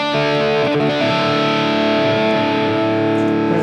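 A high-gain electric guitar patch on a NUX MG-30 multi-effects unit rings out loud and dense, with sustained distorted chords and heavy saturation and no pauses.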